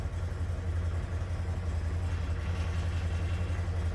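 A Ford Maverick pickup's engine idling just after starting, a steady low rumble with a constant deep hum, close and even throughout with no talk.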